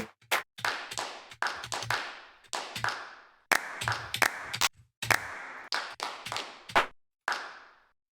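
Clap samples auditioned one after another in Ableton Live 10 for a house track: a run of sharp, dry studio hand-clap hits, each isolated with short decaying tails and brief silences between, loud and close with no talking.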